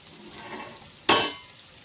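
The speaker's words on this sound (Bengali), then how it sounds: "এখানে আমি গরম জল করে দিয়ে দিচ্ছি" Hot water hits a pan of frying egg, potato and pointed gourd curry in one sudden hissing burst that fades over a moment, after a quiet low sizzle.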